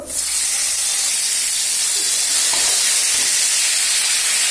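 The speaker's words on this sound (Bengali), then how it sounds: "তো দেখো তখন পটলটা ভেজে নেবো।" Pointed gourd pieces frying in a hot karahi with a little palm oil give a loud, continuous sizzling hiss that starts abruptly and holds steady, with no one talking.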